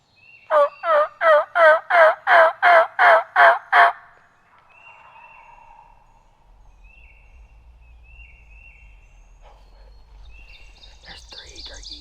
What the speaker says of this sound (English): There's 3 turkeys.